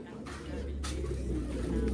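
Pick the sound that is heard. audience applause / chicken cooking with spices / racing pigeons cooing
racing pigeons cooing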